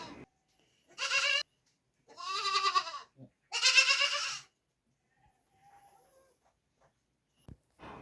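Russian dairy goats on a farm bleating loudly, three long wavering calls close by in quick succession, then faint distant animal sounds and quiet.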